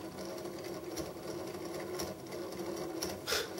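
Hummel floor sander running at high speed with a wobbling, out-of-true leading wheel, a fast rhythmic mechanical whir and rattle, steady and fairly close, with brief louder pulses near the end.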